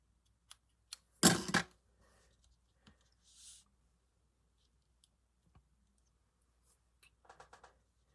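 Scissors snip a scraggly piece off an upcycled Gucci wallet craft, one quick close cut followed by small scattered clicks and handling taps in a quiet room.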